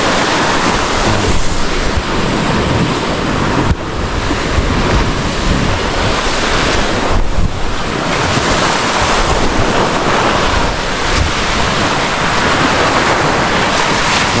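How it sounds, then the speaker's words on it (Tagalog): Ocean waves break on a shore in a loud, continuous roar of surf with heavy wind buffeting the microphone and rolling surges, and no speech. "Ganda bang masda ng alon? Tapos yung hampas sa pampang."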